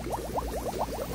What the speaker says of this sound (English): Oh yeah, it's getting mixed up. You guys see it bubbling?